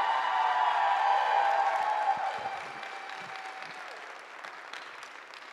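Audience applause after a performance at an African student union cultural show, loud and full at first, then tapering off to scattered claps and murmurs.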